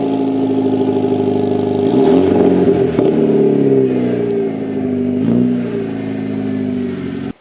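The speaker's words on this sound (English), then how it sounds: "Let's go for a cold start on the Vet now." A Chevy C7 Corvette engine cold start in snow: it cranks and catches, revving up briefly before settling into a loud, steady idle, then cuts off abruptly at the end.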